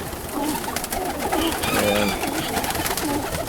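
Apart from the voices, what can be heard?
roller pigeons cooing in the loft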